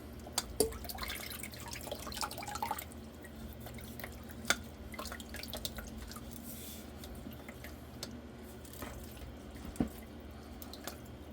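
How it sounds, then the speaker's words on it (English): Juice drips and squishes out of redbud flowers pressed through a strainer, faint wet squelching with scattered small drips close by over a quiet background. "I'm just going to press the flowers a little bit through here. Just get out all of the juice that we can."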